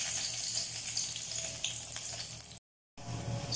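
Garlic hits a hot pan for chicken liver and gizzard adobo, a steady hissing sizzle close by that cuts out briefly before resuming, with no talking.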